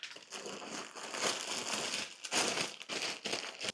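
A plastic bag being handled for packing shoes in travel luggage, crinkling and crumpling close up in irregular bursts with short pauses, no talking.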